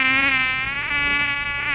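Mosquito buzzing as a sustained, close, high-pitched whine with a steady rich harmonic tone and slight pitch wavering throughout, with no voices.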